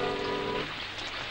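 Heavy rain pouring down in a 1956 Romanian film scene, a dense, steady hiss of downpour, loud and continuous, with a brief tonal sound fading early.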